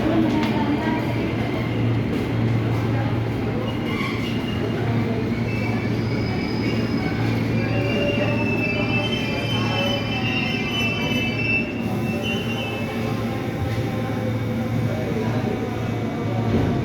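A JR 205 series KRL electric commuter train bound for Bogor rumbles in with a steady low hum, squealing wheels and rising whine, voices murmuring nearby on a busy platform at Nambo station, Indonesia.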